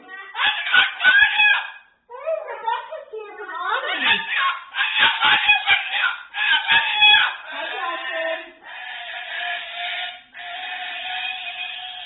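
Noisy birds calling loudly and repeatedly, raucous cackling and squawking bursts close by with short pauses between, continuing for the whole stretch.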